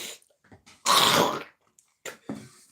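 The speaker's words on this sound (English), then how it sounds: "If you don't mind my coughing and gasping" Coughing and throat clearing from an audiobook narrator, heard as a few short rough bursts with one longer heavy cough in the middle, close and isolated with quiet gaps between them.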